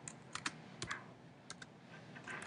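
Typing on a computer keyboard: a few quick bursts of close, crisp key clicks separated by short pauses, with a faint steady room hiss and no voices.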